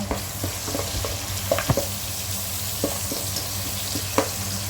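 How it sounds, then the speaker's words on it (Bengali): Onions lightly frying in oil with salt, a steady moderate sizzle broken by occasional soft clicks and scrapes of stirring, close and without talk. "পেঁয়াজগুলো এখন হালকা ভাজা হয়ে গেছে"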